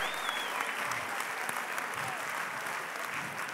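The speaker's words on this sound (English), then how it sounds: "a round of applause please for 2 game boxers, Ibrah Riyaz and Callum DE'ATH." A boxing crowd in Manchester applauds two super featherweight fighters after the bout, a sustained roar of clapping with an announcer's voice carrying over it.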